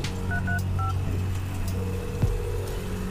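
Telephone keypad dialing tones in a Bengali detective radio drama: a quick series of short, clear beeps over a low steady hum, followed by a faint click.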